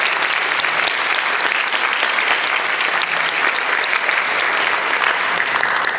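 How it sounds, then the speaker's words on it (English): A panel event audience claps loudly and steadily, a dense, even wall of applause filling the room from start to finish with no talking over it. "please give a round of applause"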